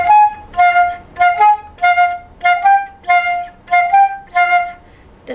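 Solo flute playing a melody line as repeated short notes in a steady rhythm, clear and close, eight phrases in a row.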